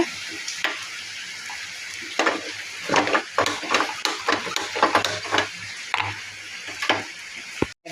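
Cowpeas sizzle in hot ghee with biryani masala, while a spoon scrapes and clacks against the pan in a quick, uneven series of stirring strokes over a constant close frying hiss.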